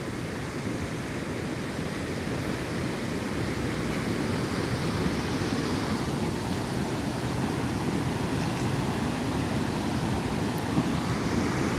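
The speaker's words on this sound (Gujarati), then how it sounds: "ધરોઈ ડેમના બે ગેટ ખોલવામાં આવ્યા છે ને મોડી રાતથી જ આ ગેટ ખોલવામાં આવ્યા છે જેથી ધોધ જે પાણીના ધોધ જોવા મળી રહ્યા છે" Water pours from two opened gates of the overflowing Dharoi dam into the swollen Sabarmati river, making a steady, dense roar that holds evenly throughout without any speech.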